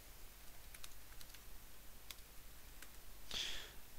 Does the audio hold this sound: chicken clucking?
no